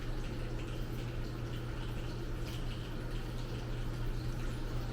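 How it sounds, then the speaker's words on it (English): A garden plant watering system runs steadily in a quiet Korean village setting, a soft continuous trickle and drip of water with a low steady hum underneath, even and unbroken throughout. "I was focusing on the sound that the plant water system does."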